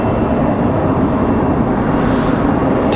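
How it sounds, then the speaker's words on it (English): An Embraer E175 jet taxis at Raleigh-Durham International Airport, its engines a loud continuous roar with a steady broadband hiss that holds level throughout, no voices. "Here comes that E175 down the hill from the penalty box."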